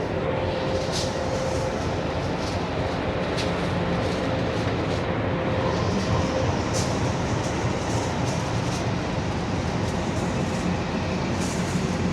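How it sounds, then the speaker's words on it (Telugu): Steady rumble of a Howrah to Mumbai train passing on the neighbouring track, heard from inside a moving express. Continuous wheel and carriage noise fills the whole stretch, loud and unbroken, with a faint tonal hum and occasional clicks. "హౌరా నుంచి ముంబై వెళ్ళే ట్రైన్ అది."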